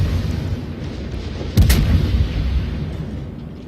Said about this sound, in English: those BBs just shot